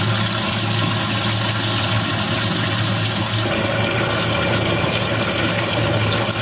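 Water gushes steadily into a 20-gallon bass boat live well tank, a loud, continuous rushing and churning pour with a low pump hum beneath, unbroken throughout.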